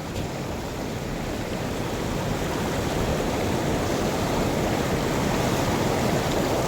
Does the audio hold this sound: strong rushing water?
yes